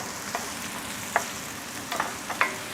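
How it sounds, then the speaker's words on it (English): Onion sizzles steadily in a hot frying pan, a constant crackling hiss with a few sharp clicks of a utensil scattered through it. "Get that nice sizzle going on."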